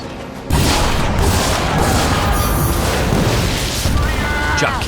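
Ship-mounted mortars firing in the naval combat game Skull and Bones, a sudden loud boom opening into a sustained rumbling barrage of blasts, with people talking underneath.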